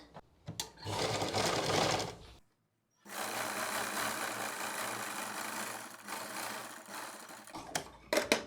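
A sewing machine stitches a salwar seam in two close, steady whirring runs separated by a short pause, with a few clicks at the start and end.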